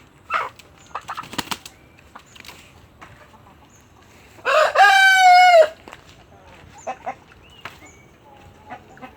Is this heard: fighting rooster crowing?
yes